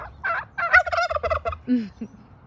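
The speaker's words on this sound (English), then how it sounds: "if nobody claims them, we'll just now have turkeys." A turkey gobbles loudly nearby, a rapid rattling burst followed by a couple of short lower calls.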